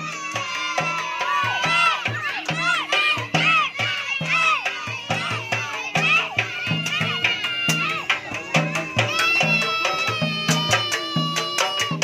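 Crowd cheering and shouting at a kuda lumping performance, with loud overlapping voices calling out over a steady beat of percussion and music, close and continuous throughout.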